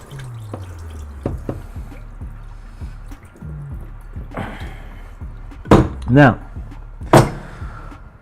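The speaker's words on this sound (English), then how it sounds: "Pour this rest of this water out." Leftover water poured from a large cooking pot into a kitchen sink, with a short splashing gush and scattered drips, while a person talks nearby.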